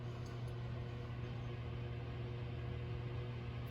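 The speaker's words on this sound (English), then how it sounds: "We're now gonna start the oven up." A Samsung gas oven starting up on bake with a newly replaced igniter gives a steady, even hum and hiss with a constant low drone throughout and no talking.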